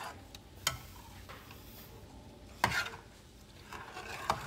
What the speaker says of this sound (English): keep stirring till the sugar is nicely dissolved